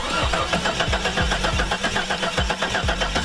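A Jeep XJ engine cranks in a rapid, rhythmic churn of the starter, loud and close, turning over repeatedly for a few seconds without settling into an idle.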